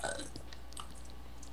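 A single low, gurgling burp rumbles out over steady background noise, close and moderately loud, lasting about a second and a half.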